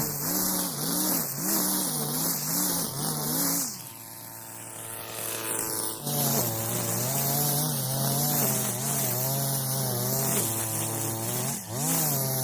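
A Maruyama NE500 brush cutter fitted with 4 mm seven-sided line cuts thick grass close to the ground, its two-stroke engine whining steadily and close, dipping and surging in pitch as the line bites in.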